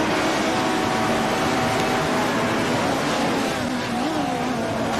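A Formula 79 race car engine in a sim racing game at Mugello holds a loud, steady high-revving drone through the S curves, with slight pitch shifts as the car carries speed.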